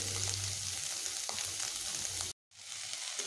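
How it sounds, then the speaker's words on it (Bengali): Bitter gourd and potatoes fry in a pan over medium heat, giving a steady, dense sizzle that drops out briefly near the end before resuming. "এবার আমি এইভাবে একসঙ্গে সবগুলোকে বেশ ভালোভাবে ভেজে নেব। এখন আমি মিডিয়াম হিটেই ভেজে নেব।"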